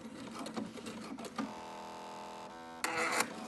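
A sewing machine stitches fabric for a thumb hole cuff, running in a steady mechanical whir with a brief stop and a quick burst at the end while locking the stitches, heard close with no talking.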